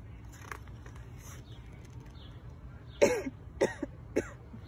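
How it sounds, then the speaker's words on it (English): Three short, sharp coughs in quick succession, close and fairly loud, after a stretch of quiet room tone. "Cough, cough, cough."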